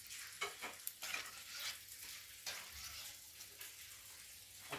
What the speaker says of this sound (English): Remember what I was doing is deep frying.